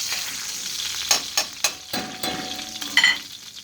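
A spatula scrapes across a hot pan of sizzling meat drippings for red-eye gravy, several sharp scraping strokes over a soft, steady fry.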